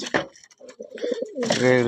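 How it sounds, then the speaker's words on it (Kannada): Pet pigeons or doves coo and call while being fed, a few close, soft bursts with short pauses between them. "ನಮ್ಮ ಎಲ್ಲ ಹಕ್ಕಿಗಳಿಗೆ ಮೇವು ಹಾಕಿ ಸ್ಟಾರ್ಟ್ ಮಾಡಿದ್ವಿ"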